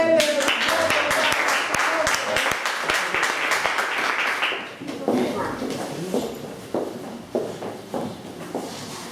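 Church congregation applauding, dense clapping for several seconds that then thins into scattered claps, mixed with voices and shuffling in the room.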